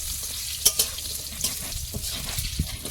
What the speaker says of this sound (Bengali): খুব বেশি লাল করে ভাজবো না